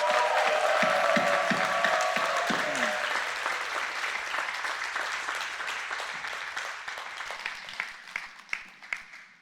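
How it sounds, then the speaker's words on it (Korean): A church congregation applauds during Sunday worship to welcome a visitor, sustained clapping that starts loud with a sung tone underneath and gradually thins to a few scattered, sharper claps at the end. "이 귀한 영혼을 위하여 다시 한번 큰 박수로 환영하겠습니다"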